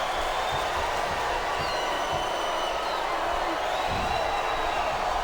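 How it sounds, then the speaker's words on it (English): A wrestling arena crowd at a WWE Vengeance 2007 event keeps up a dense, steady roar of cheering that fills the whole stretch without breaks. "Listen to the crowd, JR."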